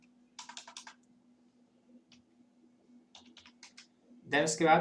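Bursts of typing on a computer keyboard during data entry in transport management software, with quiet clusters of key clicks over a low steady hum, ending as a person starts speaking.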